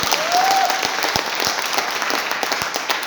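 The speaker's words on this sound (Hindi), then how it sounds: "तो एक बार जोरदार ताली तो बजाइए।" An audience at a seminar-style gathering breaks into applause: steady, dense clapping that holds at an even level for a few seconds, with a brief faint tone near the start.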